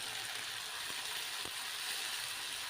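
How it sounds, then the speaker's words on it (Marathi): Ground masala paste sizzling in oil in a kadhai, a steady broad hiss with a couple of faint clicks of a spoon, continuous and fairly close. "हे वाटणसुद्धा आपल्याला चांगलं तेल सुटेपर्यंत परतून घ्यायचे"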